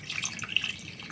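Porcini mushroom soaking water poured into a cooking pan, giving a short run of light splashing and dripping with irregular small spikes, close and moderately soft.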